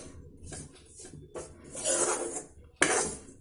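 Besan mixed with milk pressed and roasted in a pan for besan burfi, giving close rasping, scraping strokes of a spatula against the pan in irregular bursts, louder and denser toward the end, with no talk.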